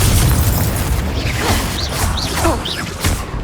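A Confringo fire spell blasts in the Hogwarts Legacy video game, a loud dense rumble of booms and bursts with whooshing effects, while a character's voice briefly calls out over the combat noise.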